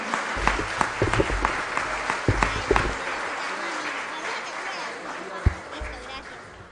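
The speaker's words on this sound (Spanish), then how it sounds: "vamos a darle un aplauso" Clapping from an audience welcoming the children of the Colegio Hebreo Unión band at a Día de Israel celebration, scattered sharp claps up front fading into softer applause, with voices talking underneath.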